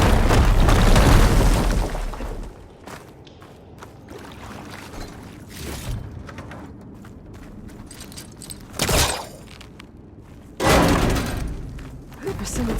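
Fire gleam deposit blown up in Horizon Forbidden West: a loud booming blast at the start, followed by scattered impacts and two later sharp bursts.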